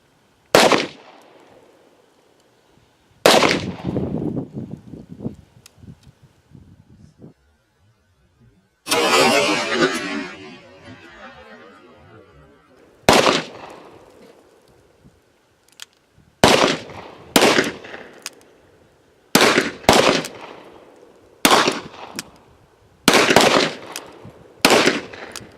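Gunshots ring out at a shooting range, a dozen or so sharp loud cracks spaced irregularly, some in quick pairs, with one longer burst of noisy rumble in between.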